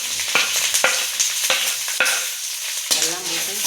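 Chillies, curry leaves, onion and garlic sauté in hot oil with a steady loud sizzle, broken by several sharp scraping strokes of a spoon stirring the pan, no voices.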